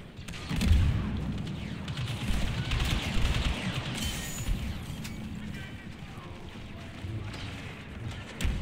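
A grenade explodes in a video game amid scattered gunfire and combat noise, a thudding blast near the start followed by rumbling battle sounds while someone talks throughout.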